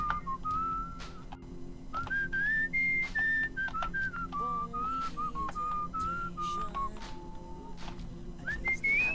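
Whistling in the video game Where the Water Tastes Like Wine, a clear wandering melodic tune of sustained notes that shift in pitch, continuous and prominent over a soft background.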